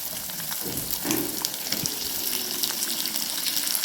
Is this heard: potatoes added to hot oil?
yes